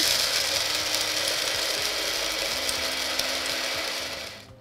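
Fresh coffee beans grinding in a kitchen grinder, a continuous loud close whirring and crunching that runs steadily and then fades out at the end.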